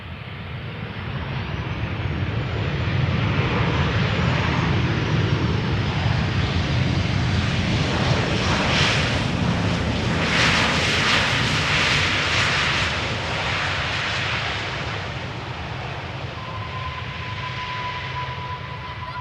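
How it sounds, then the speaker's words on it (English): A seven-year-old Boeing 737-800 airliner on flight 361 from Bucharest arrives on Schiphol's Polderbaan runway, a broad jet roar that builds, peaks as it passes overhead and slowly fades, with no voices. "flight 361 arriving from Bucharest, 737-800, 7 years old, first flight May 2017"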